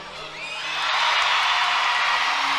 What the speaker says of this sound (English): Listen to that ovation.